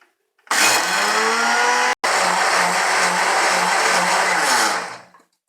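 An electric grinder whirs loudly and close as it purees mint with water and onion into chutney, a steady high-pitched roar broken by one brief stop before winding down.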